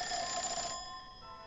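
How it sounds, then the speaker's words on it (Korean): An old rotary dial telephone rings loudly at night in a house, a bright sustained ring that cuts off after under a second and leaves a fading tail. "매우 소란스럽게 오래된 다이얼 전화가 울렸다."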